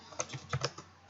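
A few quick keystrokes tap on a computer keyboard while Hello World code is entered in Visual Studio 2015, short crisp clicks close by in a brief burst.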